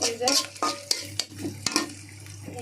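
Fish and chillies frying in a karahi wok, with a steady sizzle under a run of sharp clanks and scrapes as a spatula stirs against the metal pan; no one speaks.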